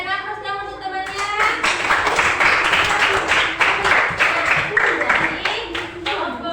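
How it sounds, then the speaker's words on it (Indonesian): A class of children applauds in a classroom, a dense burst of clapping starting after a quiet moment and continuing steadily for several seconds before tapering, with voices mixed in. "berikan aplaus dong untuk temannya"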